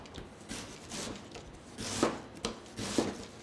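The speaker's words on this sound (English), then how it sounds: "I just thinly slice it like this, going down" Knife thinly slicing an onion on a board, giving a series of soft, quiet cuts and taps, with a few slightly sharper strokes near the end.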